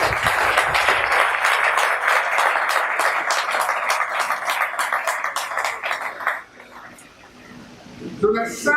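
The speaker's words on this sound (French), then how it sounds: "vous voulez vous mettre encore une fois debout, on va vous applaudir." An audience applauds Charles Onana at a conference on the Congo, a dense, steady clapping that fills most of the stretch before thinning out near the end, with a few scattered claps after a short lull.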